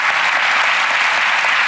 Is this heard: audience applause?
yes